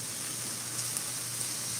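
Onions and garlic sauté in a sauté pan with a soft, steady hiss of sizzling, fairly faint and even throughout.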